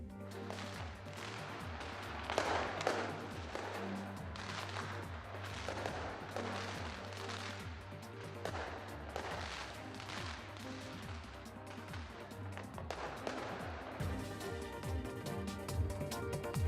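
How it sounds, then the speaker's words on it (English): A massive New Year fireworks display in New Zealand: a long run of repeated booming bangs and crackling bursts, steady and fairly faint at a distance, with denser crackle building toward the end. "New Zealand rings the new year with massive firework display."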